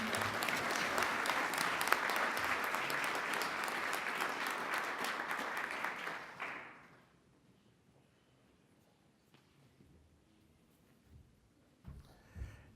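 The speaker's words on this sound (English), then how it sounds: "Let's give a big round of applause for Governor Bill Walker." A hall audience at a Hall of Fame induction ceremony claps loudly and steadily for about six seconds, then the applause fades out into a quiet room with a few faint stray noises.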